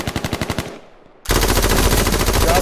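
Light machine gun fire in H1Z1: a rapid burst of sharp shots, a brief lull, then a sustained dense stream of automatic fire, loud and close.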